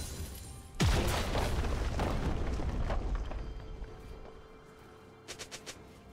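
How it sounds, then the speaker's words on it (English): Turret destroyed in League of Legends: a single deep boom followed by a long rumbling decay that fades over several seconds, then a few faint crackles. "Blue team's turret has been destroyed."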